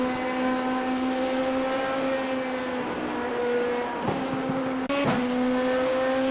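A race car in a racing video game at Fuji runs flat out down the main straight. Its engine gives a steady, high, buzzing drone, with a couple of brief dips as it shifts near the end.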